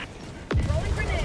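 A sentry gun called down in a shooter video game lands with a sharp descending whoosh and impact, then a burst of rapid gunfire and crashing clatter, loud and close.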